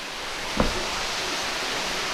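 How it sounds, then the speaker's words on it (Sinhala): An underground stream in a Sri Lankan jungle tunnel makes a steady, even rushing wash of water, with a single soft thump early on and no talking. "මෙතනින් තමයි අර උඩින් එන වතුර පාර යන්නේ පොළොව යටින් එන්නේ"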